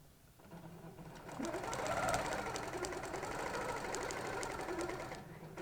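A sewing machine runs continuously while stitching a quilt along a diamond ruler template, a soft, fairly quiet whir that builds, holds steady and eases off at the end.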